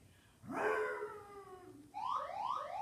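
A faint siren wails, its tone sweeping down, then switches to a rapid rising yelp pattern, heard from some distance.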